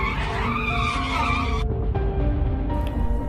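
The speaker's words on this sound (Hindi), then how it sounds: "बुल्ली एकदम स्कूटर रोकता है" A scooter brakes sharply to a sudden stop, with a loud tire skid and screech over steady engine noise that cuts off abruptly partway through.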